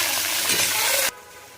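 Tomato added to a pan of frying onions and garlic sets off a loud, close, steady sizzle that cuts off abruptly partway through, leaving a faint hiss.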